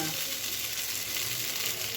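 Steady, close sizzling of potatoes frying in a hot pan, a continuous bright hiss with faint stirring underneath.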